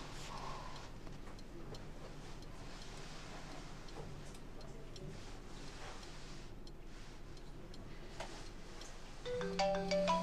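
An incoming telephone call rings in only during the final second, a bright electronic ringtone rising out of a quiet room with faint ticking.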